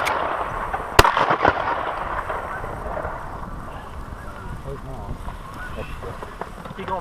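Canada geese honking during a February blizzard in 50 mph winds, with a sharp shot-like crack near the start, scattered honks and steady wind roar, and a voice talking over part of it.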